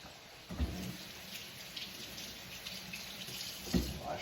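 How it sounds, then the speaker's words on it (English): Water runs steadily from a kitchen tap as hands are washed beneath it, a soft continuous splashing with a couple of louder knocks. "Wash our hands off."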